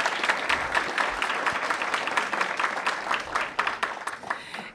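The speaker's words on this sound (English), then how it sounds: "Give them another round of applause." An audience at a public event applauds with steady, dense clapping that carries for several seconds and tapers off at the end.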